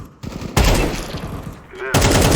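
Gunfire in Counter-Strike 2 comes as loud, broadband bursts, one early and another near the end, with a brief tonal ring between them and no voices over the shots.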